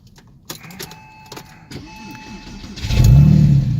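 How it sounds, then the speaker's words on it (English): An all-wheel-drive C4S car engine cranks and catches after a few faint clicks, then settles into a loud, close, low rumbling idle. "I'm going to start the engine up."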